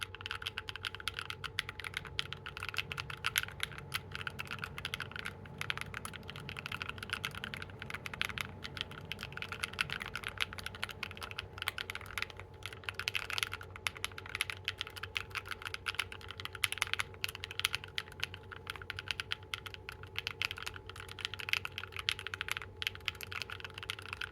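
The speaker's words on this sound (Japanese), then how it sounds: "違う GMK の Red Samurai のチェリープロファイル ABS 製のものに変えてみて、この辺の打鍵感、打鍵音の違いもですね" Continuous typing on an Akko CS Piano switch keyboard fitted with GMK Red Samurai cherry-profile ABS keycaps, a steady patter of close keystrokes with no talk.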